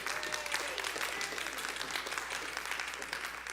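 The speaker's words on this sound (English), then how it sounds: "so that you can clap once again" Audience applause at a special Q&A event on mental and spiritual fitness, dense and moderately distant as two speakers are welcomed to the stage, steady for several seconds with a faint voice underneath.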